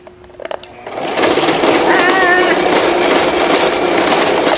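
An unthreaded sewing machine runs fast after a few soft clicks, a loud rapid rattling clatter that keeps going steadily at close range.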